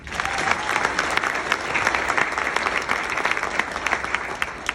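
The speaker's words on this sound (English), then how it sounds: "You may applaud." An audience at a formal dinner claps steadily throughout, a dense patter of applause from a crowd indoors at moderate volume.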